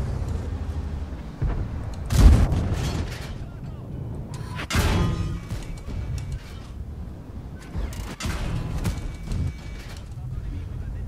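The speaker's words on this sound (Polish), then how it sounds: "przyjąłem przyjąłem kilka strzałów, wystrzeliłem wszystkie pociski" Tank cannon fire and shell hits in World of Tanks with the Prototipo Standard B: several heavy booming blasts over continuous rumbling engine and battlefield noise.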